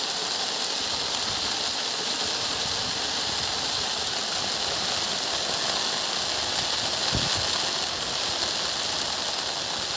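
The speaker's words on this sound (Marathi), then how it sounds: "पाऊस पण म्हणजे खूप पडतोय" Continuous heavy monsoon rain hissing over the Kajali river in Ratnagiri, Konkan, even and unbroken throughout, with one brief low thud near the end.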